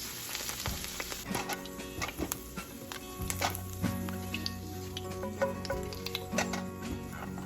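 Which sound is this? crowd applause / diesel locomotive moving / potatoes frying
potatoes frying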